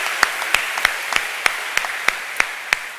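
A church congregation claps during a worship gathering, sharp rhythmic hand claps at an even beat, roughly ten in a row, loud and close without talk.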